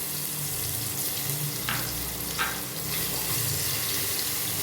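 Garlic frying in oil with cinnamon and bay leaf in a pressure cooker gives a steady, close sizzling hiss. It swells briefly a couple of times and otherwise stays even throughout, with no talking.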